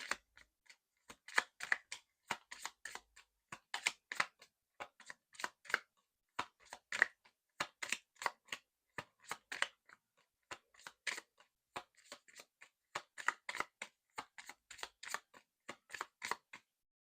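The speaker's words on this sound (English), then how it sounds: "Let me shuffle again" Tarot cards riffled and shuffled by hand in dense bursts of crisp flicking and snapping, repeating steadily with brief pauses, close and fairly quiet with no talking.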